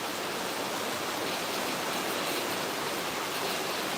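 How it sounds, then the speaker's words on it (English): Heavy rain pours down in a constant, dense hiss that fills the whole stretch evenly, loud and unbroken, with no voices. "it's raining so loud"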